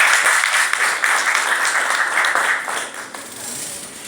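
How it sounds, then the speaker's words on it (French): An audience at a cocoa labour-law panel in Côte d'Ivoire applauds in a sustained, dense burst that eases slightly toward the end, with voices faintly mixed in. "Merci de l'applaudir, s'il vous plaît."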